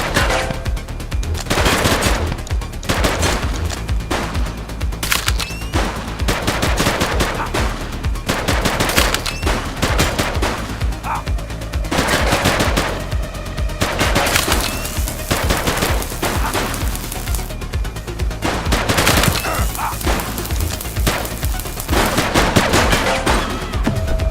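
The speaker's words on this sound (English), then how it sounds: "Light them up! He's shooting!" Loud, sustained gunfire in the police video game The Precinct, with rapid automatic bursts and single shots repeating almost continuously, a dense firefight with only brief gaps.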